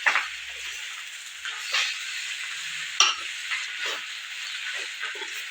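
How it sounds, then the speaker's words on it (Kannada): A spoon stirs cluster bean (javalekai) palya in a hot frying pan, with a steady sizzle and hiss broken by occasional louder scrapes and clinks, close and continuous. "ಲಾಸ್ಟಿಗೆ ಮಿಕ್ಸ್ ಮಾಡಬೇಕು ಮಿಕ್ಸ್ ಮಾಡಬೇಕು"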